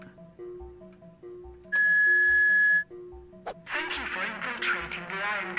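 Toy whistle from a cereal box in the Jazzpunk video game, a single shrill sustained tone lasting about a second over a plinking electronic tune, followed by a burst of noisy sounds.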